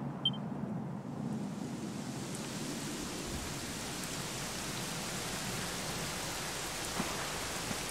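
Steady, moderate rainfall patters continuously in the Dragon Quest XI video game, an even hiss of drops with no voices.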